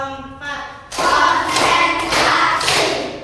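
Hand clapping in a classroom clap game, with a voice speaking briefly before loud, dense bursts of clapping that follow in close succession.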